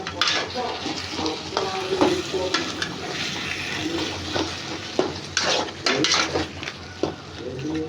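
A chicken curry sizzles in a frying pan as spices are stirred in, with steady frying hiss and repeated scraping clinks of a spoon against the pan.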